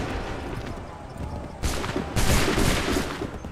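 A musket volley crackles in Assassin's Creed 3, a dense, continuous burst of gunfire that surges louder twice as further ranks fire, with no clear gaps between the shots.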